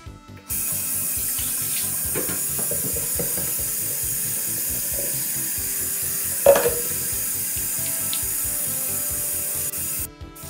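Tap water runs steadily into a bathroom sink during face washing, a continuous splashing stream that starts abruptly and ends near the close, with one brief louder knock or splash midway.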